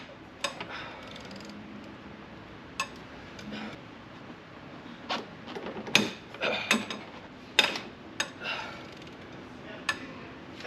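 A ratchet works loose the VCT bolts on a 3.5L Ecoboost engine, giving sharp clicking bursts and metallic ticks scattered irregularly over a quiet shop background, up close.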